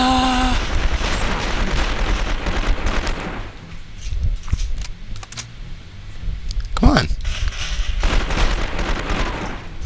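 AK rifle fire in the video game 24, with bursts of shots under loud game sound and someone talking over the action.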